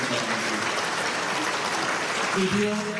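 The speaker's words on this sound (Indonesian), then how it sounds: "Tepuk tangan sekali lagi." A crowd applauds steadily and loudly for a few seconds at an Indonesian ministerial handover ceremony, with a voice briefly audible near the end.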